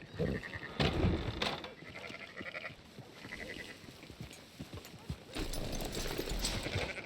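Sheep bleat in short, repeated calls from a farm scene in Red Dead Redemption 2, along with clip-clopping hooves and faint background activity.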